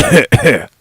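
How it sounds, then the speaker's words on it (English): Two quick, loud coughs close to the listener, the second right after the first, then silence. "everyone's here for the cough"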